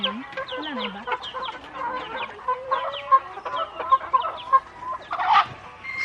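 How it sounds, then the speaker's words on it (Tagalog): A flock of farm chickens clucking and chattering at feeding time, close and busy, with scattered squawks and a brief louder cry near the end. "Nagpapakain kami ng mga manok guys."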